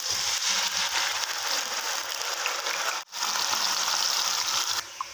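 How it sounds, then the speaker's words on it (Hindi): Two chopped onions hit hot oil for shahi chana and sizzle loudly and steadily at close range, with one brief break and a slight drop near the end; nobody speaks. "जैसे ऑयल हमारा गर्म हो जाता है तो हम इसमें डालेंगे प्याज को"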